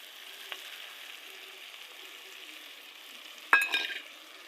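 Stuffed brinjal curry frying in a pan after chili powder goes in, a faint steady sizzle with a sudden louder burst of crackling stir-frying near the end.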